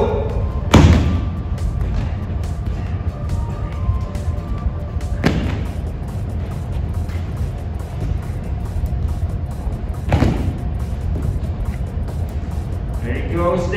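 Heavy thuds from someone doing hop backs in a Tabata workout land a few seconds apart, each dull impact rising over a steady background while a voice talks through the round.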